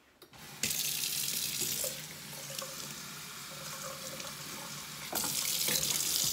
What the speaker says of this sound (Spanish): Voy a echarle agua.